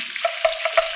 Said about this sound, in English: Okay, so you hear that sizzle?